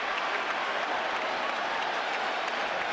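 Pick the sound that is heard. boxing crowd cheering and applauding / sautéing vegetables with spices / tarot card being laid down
boxing crowd cheering and applauding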